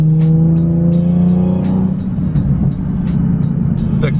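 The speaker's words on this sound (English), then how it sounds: "The car sounds absolutely amazing here" Modified car engine on a short drive, loud and close with a steady droning tone that rises then breaks into rougher rumble, continuous throughout.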